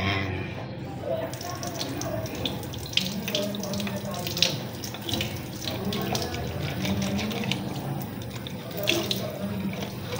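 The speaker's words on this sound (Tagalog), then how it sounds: "So, magugas po tayo ng ating bason." Dishes are washed under a running tap, with a continuous rush of water and the clatter of cups and dishes knocking together, close and fairly loud.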